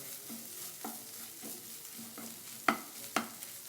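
A vegetable stir-fry being mixed in a pan, with quiet sizzling under repeated spoon scrapes and two sharper clinks of metal against the pan near the end.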